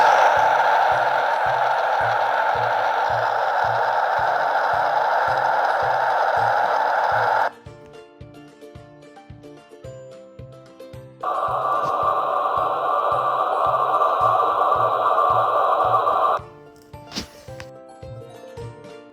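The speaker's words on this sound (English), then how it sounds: "This is the sound of a radiant heating leak under a slab foundation." A radiant heating line leaking under a slab foundation, picked up through an HL 5000 leak detector as a steady hissing rush with a faint regular pulsing beneath, cutting out briefly and returning.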